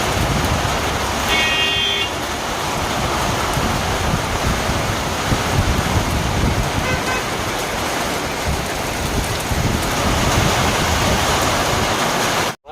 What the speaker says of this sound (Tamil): சரியான மழை, நல்ல மழை பிடிச்சிருக்கு